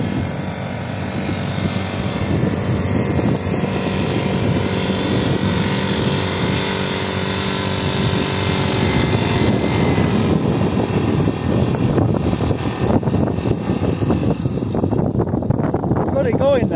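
An outboard engine on a small boat that has no reverse gear, swung around to push backwards, drones steadily and close throughout, with a voice speaking over it.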